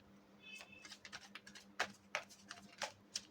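Tarot cards being shuffled by hand give faint, irregular soft slaps and riffling taps in quick uneven bursts, close by and quiet, with no talking.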